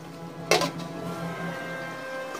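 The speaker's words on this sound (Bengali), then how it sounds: "এখন আমরা এর মাঝে মাংস দিয়ে দিচ্ছি। এখন ভালোভাবে নেড়ে নিচ্ছি।" A metal spoon scrapes and clinks against a pot as meat is stirred into a biryani base, with one bright clatter followed by soft, faint sizzling close by and no voices.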